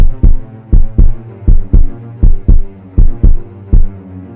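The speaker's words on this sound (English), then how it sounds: "It could hear my heartbeat. I knew it could. It was so damn loud and fast like a machine gun." A loud, fast heartbeat sound effect thumps in steady paired beats, strong low pulses repeating about every half second with nothing else around them.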